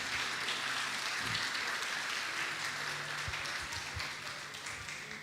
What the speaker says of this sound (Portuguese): Vamos aplaudir ao Senhor pela vida dos nossos visitantes?